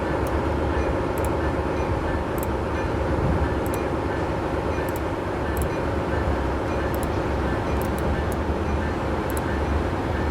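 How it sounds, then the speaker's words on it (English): A train in a Southern California train simulator game rolls toward a platform with a steady low rumble, and light rhythmic clicks of wheels over rail joints recur throughout. No voices are heard. "The train now approaching platform 4 terminates here."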